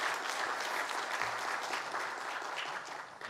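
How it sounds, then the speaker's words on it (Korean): Congregation applauding in a church during a Sunday worship service, a steady wash of clapping that holds for several seconds and thins slightly toward the end, with no talk over it. "우리 한번 서우에게 큰 박수로 격려해 주시길 바랍니다"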